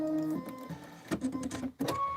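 A sewing machine stitching the fence section of a quilt, a brief whirring run that stops and starts in short bursts.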